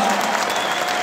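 A Royal Albert Hall audience greets Edgar Wright with a brief burst of thick, sustained applause, loud and even from start to finish.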